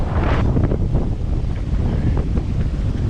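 Tropical Storm Isaias at a dock in Cape Coral, Florida: loud gusting wind buffets the microphone in a constant rumble while waves slosh and splash nearby underneath it.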